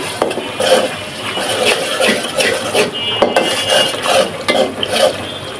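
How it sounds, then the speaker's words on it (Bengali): Spices such as chili powder and garam masala being stirred and fried in a pan, with a spoon scraping in a steady rhythm of strokes over a continuous sizzle, up close and loud. "একটু কষিয়ে নিই।"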